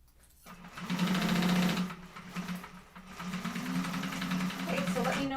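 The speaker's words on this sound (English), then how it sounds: "sewing over that folded edge, hold that fold in place, and all the way up" A domestic sewing machine runs in a steady whirring stitch while sewing over a folded fabric edge, pausing briefly midway and then resuming, with a person talking over it.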